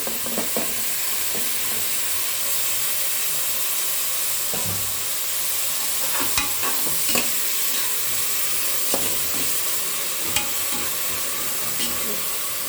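Onion, tomato, chilli, mint and curry leaves sizzle steadily in hot oil for chicken biryani, with a close continuous frying hiss and occasional clicks of a spoon stirring the pan.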